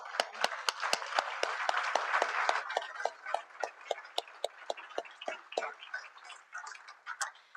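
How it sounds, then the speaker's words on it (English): Audience applause at a closing ceremony thins into sparse, separate hand claps, a fairly quiet scatter of individual sharp claps spread irregularly across the whole stretch. "So I would like to have a special applause for our organizing team."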